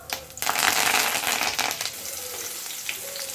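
Mustard seeds, cumin and curry leaves hit hot oil for an aloo curry, bursting into a loud, crackling sizzle that settles into a steady, softer frying hiss with scattered pops.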